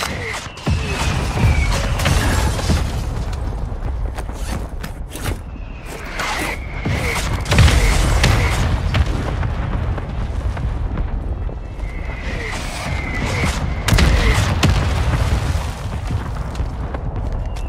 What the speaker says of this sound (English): Requesting fire mission. Target mark. Copy that. Mortar strike inbound.